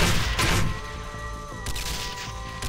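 Sustained machine gun fire from an M240 in the game Banzai Escape, a dense burst of shots that is loudest in the first moment and then rattles on steadily beneath musical tones in the soundtrack.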